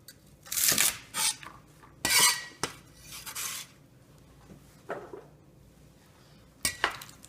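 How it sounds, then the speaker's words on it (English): A knife trims the ends off leafy green stems on a cutting board while preparing a stir fry, making several distinct crisp chops and knocks with quiet pauses between them. "And the stems, I'm going to cut the ends off"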